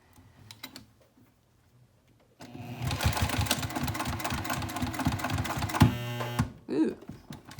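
A sewing machine runs steadily for several seconds, stitching down a folded sling strap, preceded by faint handling and followed by a brief sound of the fabric being moved; no one speaks.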